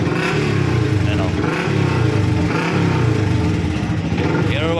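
Yamaha Sniper 150 motorcycle showing an Error 1 fault yet still running, its engine idling in a close, steady throb while someone talks over it.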